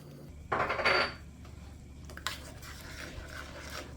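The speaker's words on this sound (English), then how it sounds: "Just place it in the pot. And you wanna stir." Chopped vegetables are stirred in a pot, with a short burst of scraping and clattering early on, then quieter scattered knocks and rubbing over a low background hum, with no talking.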